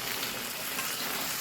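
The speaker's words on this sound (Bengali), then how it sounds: "এক চুলায় মাংস কষানো হচ্ছে" Meat for chicken biryani fried in a pot on a clay stove, a steady dense sizzle and crackle of hot oil held at an even level throughout.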